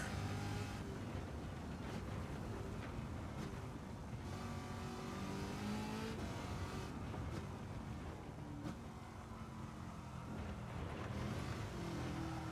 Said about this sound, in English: So this is the new Corvette C8.